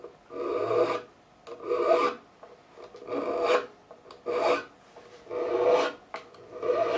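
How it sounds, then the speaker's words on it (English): A metal file rasps in slow, regular strokes along the sharp fret edges of a Fender Standard Stratocaster, about seven close, steady passes with short pauses between them. "I'm just removing these sharp edges. Make it easier to sand them later."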